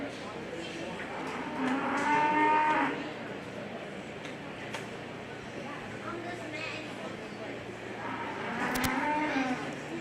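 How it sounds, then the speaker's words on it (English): Cattle low and moo in a county fair beef show ring during a 4-H and FFA calf show, two drawn-out calls a few seconds apart amid crowd murmur and an announcer talking over a public address. "Cow-calf pair is now entering the ring."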